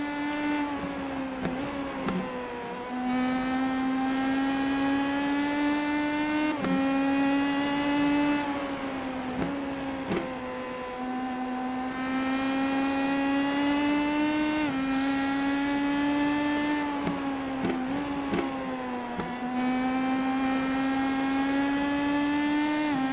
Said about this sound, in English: Take a little bit of a listen to the engine noise here.